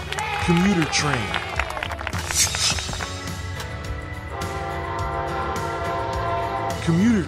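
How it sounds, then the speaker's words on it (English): A commuter train passes with loud, continuous rumbling and rail noise, and short horn blasts sound near the start and again at the end. "Commuter train."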